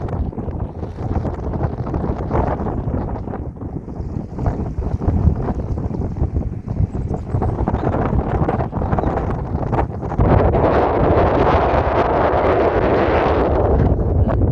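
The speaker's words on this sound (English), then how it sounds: "I'm being pushed by the wind, so it's not easy to keep the camera level" Strong wind buffets a camera microphone outdoors at Fairlie Bay, a loud continuous rumbling roar that surges and gusts, growing heavier toward the end, with no voices.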